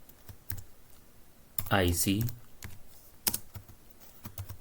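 Typing an address on a computer keyboard while coding an HTML paragraph: scattered close, crisp key clicks in short bursts, with someone talking over part of it.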